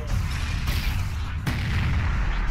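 Artillery fire in the video game Arena Wars 2: heavy, dense booming blasts fill the whole stretch, with a couple of sharp onsets standing out among the continuous rumbling barrage, and no voices.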